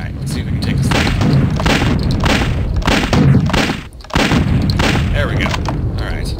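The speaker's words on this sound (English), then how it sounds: "A giant turret that flings mortar shells at us" Heavy booming blasts from a giant turret flinging mortar shells in the WolfenDoom game's Streets of Fire level, a run of loud thudding explosions that repeat over several seconds under constant battle noise.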